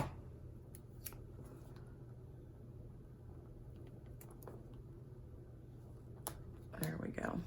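Scissors snip off a piece of tape with a few quiet crisp cuts and clicks over low room hum, a soft rustle near the end, faint and close.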